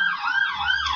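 An emergency siren wailing outside, a loud rising and falling tone heard alone for about a second.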